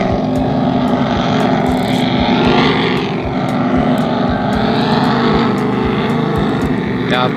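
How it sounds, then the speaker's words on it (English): A loud offshore racing powerboat roars past at sea, its heavy droning engine noise filling the scene with a rising and falling sweep as it goes by, close and sustained throughout. "Some sort of offshore racer. Just making a lot of noise basically."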